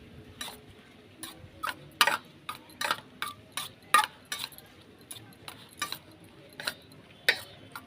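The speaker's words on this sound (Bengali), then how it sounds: "দিয়ে ভালো করে মিশিয়ে নিচ্ছি সবগুলো একসাথে ডিমের সাথে।" Pizza ingredients being mixed into beaten egg in a bowl, heard as a series of sharp, irregular clinks of a utensil against the bowl, close and distinct over a quiet background with no talk.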